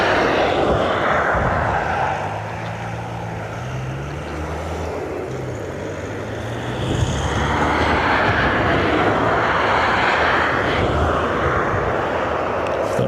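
A Ryanair airliner arriving from Naples lands at Dublin Airport, its engine roar loud and sustained throughout, swelling again after a brief dip, with a low propeller-like drone underneath.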